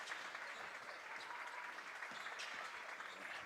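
High school basketball student section at Hustisford versus Randolph claps and cheers in a gym, a continuous patter of applause and crowd noise heard fairly faint and far away.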